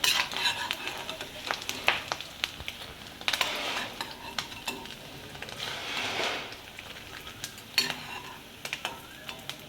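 Fish roe fritters frying in a pan, with a soft sizzle under intermittent stirring and the clink of a utensil against the pan as pieces are turned and lifted out; fairly quiet, no speech.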